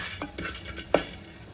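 Pepper, cumin and fennel dry roasting in a pan come through as faint, quick spatula scrapes and light metallic taps, a few brief strokes close by with no speech.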